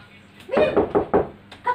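Four firm knocks on a door, close and loud, in an Indonesian comedy film, followed by a brief voice.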